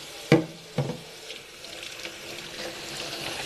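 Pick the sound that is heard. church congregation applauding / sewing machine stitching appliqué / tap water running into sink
tap water running into sink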